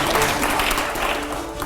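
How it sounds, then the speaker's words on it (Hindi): Loud applause plays in a Hindi-language TV studio during a rapid-fire interview segment, a dense, steady clatter of many clapping hands that fills the whole stretch without pause. "पहले जोरदार तालियां यहां पर दिखाइए"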